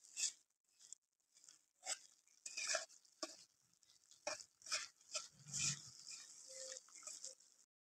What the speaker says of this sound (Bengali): এবার অল্প অল্প করে খুন্তি দিয়ে আমি নাড়িয়ে দেবো।